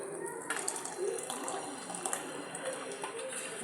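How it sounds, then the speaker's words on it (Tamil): Water pouring and splashing softly into a pot of Tamil buttermilk curry, a quiet continuous trickle with small bursts. "இன்னும் கொஞ்சம் தண்ணி சேர்த்துக்கலாம்"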